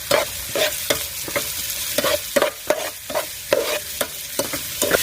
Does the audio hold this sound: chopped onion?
yes